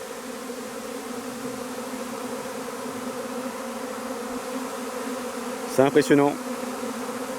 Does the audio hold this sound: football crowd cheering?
no